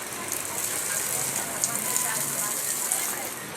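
Steady rain falls during a typhoon, a continuous even hiss of drops on surfaces close around, with a few sharper patters and no voices heard.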